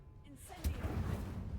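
A Confringo fire spell in Hogwarts Legacy goes off as a single muffled blast, followed by a low rumbling tail.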